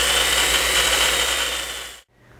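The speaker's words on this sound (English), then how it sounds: "Select reverse, then press and hold the trigger until the spindle returns back to the 0 degree starting position." An AGP DB32 digital tube bending machine runs its spindle in reverse with a loud, steady motor whine that stops abruptly near the end, leaving quiet room tone.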